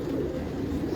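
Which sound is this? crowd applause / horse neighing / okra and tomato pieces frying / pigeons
pigeons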